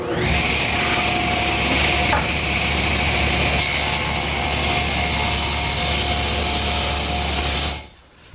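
A table saw rips along the edge of a wooden board in one continuous, loud, close whine that holds steady for several seconds before the cut ends and the blade winds down.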